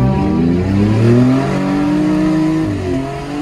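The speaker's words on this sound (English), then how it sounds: "We can do a big burnout." A Ford Escape roars through a hard burnout, its engine revving loud and close with rising and falling pitch as the tires spin, no one speaking over it.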